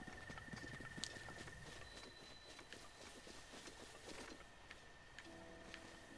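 Horse hooves clip-clopping at a walking pace in the video game The Legend of Zelda: Breath of the Wild, faint and rhythmic over soft ambient background music.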